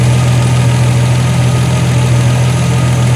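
A 1976 Triumph TR6 car engine runs at a steady, loud idle with a constant low hum and no change in pace throughout.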